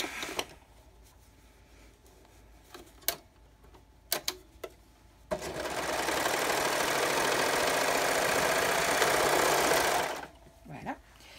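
A sewing machine stitches fleece for a lined toque in one continuous, steady run of about five seconds, with scattered clicks and handling noises before and after.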